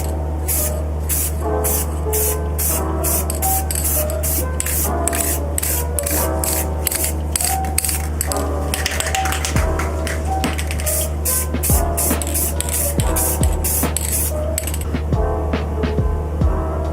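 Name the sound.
spraying Rust-Oleum clear gloss onto a 3D-printed helmet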